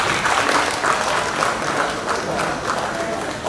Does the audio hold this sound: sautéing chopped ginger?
no